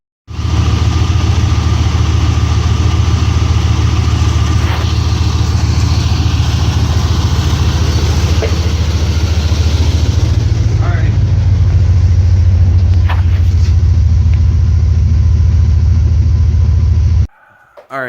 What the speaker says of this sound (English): We're going to start up the truck so that way the transmission fluid will circulate a little bit